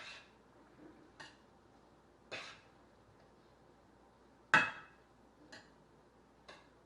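A spoon stirs seasoned taco meat in a pan at home, giving a few sparse, separate clinks and scrapes spaced about a second apart over a quiet background, with no talking.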